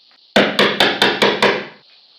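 A hammer strikes the stop block of a wooden hand plane six times in quick, even succession, each blow a sharp, loud, close knock on wood, with no talk.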